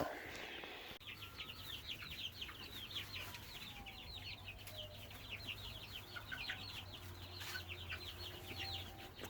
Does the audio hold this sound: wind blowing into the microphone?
no